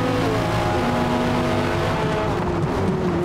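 Race car engines in the Forza Motorsport video game, chasing a Corvette C8, with loud sustained engine roar and shifting pitch as several cars race close together.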